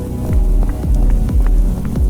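Steady rain falls in a light drizzle, a continuous close wash of patter with low rumbling throbs recurring every half second or so underneath, no voices present.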